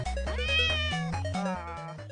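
A short, bright, high-pitched meow-like tone in the Nyan Cat game rings out over a steady electronic chiptune melody.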